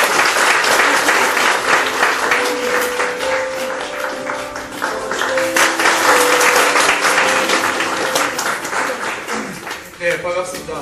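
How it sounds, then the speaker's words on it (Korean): Loud, sustained clapping from a church festival audience welcoming a cell leader to the stage, continuous for about ten seconds with voices and shouts rising through it before it tapers near the end. "나오실 때 우리 박수로 함께 청해 듣겠습니다."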